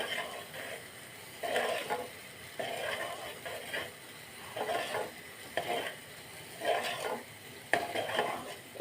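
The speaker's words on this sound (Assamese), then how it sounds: "লাৰি থাকিব লাগিব তলত যাতে লাগি নাযায় তেনেকৈ" A homemade neem soap mixture is stirred in a pot, making repeated scraping, clinking strokes against the metal in a steady back-and-forth rhythm, close by and moderately quiet.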